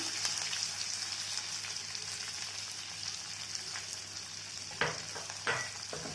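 Curry leaves and coriander frying in oil for Guntur gongura chutney crackle as a steady, fine sizzle, with two brief louder pops or stirs near the end.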